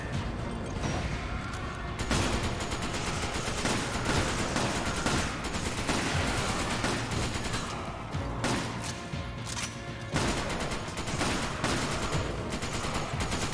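Gunfire in Resident Evil 5, dense and sustained bursts of shots crackling close and loud with hardly a break, under a continuous din of game action.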